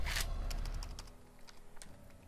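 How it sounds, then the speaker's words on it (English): Quick typing of a short command on a computer keyboard, a burst of several close, crisp key clicks followed by a few sparser taps. "I'm going to hit U, and I'm going to type in"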